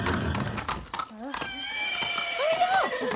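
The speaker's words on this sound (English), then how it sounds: "That's the horse in some paint!" A horse painted to look like a zebra in Far Cry 6 gives a rising, wavering whinny near the end, following shouted voices and game sounds.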